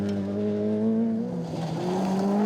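A Toyota Corolla rally car driving hard on a Limerick forest stage, its engine holding a steady loud howl, dipping briefly as it lifts off, then pulling strongly again, close and alone without voices.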